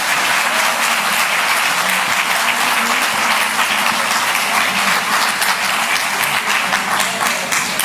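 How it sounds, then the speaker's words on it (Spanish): Loud, dense applause from a church congregation, continuous and even for the whole stretch with no talk over it. "Más fuerte ese aplauso."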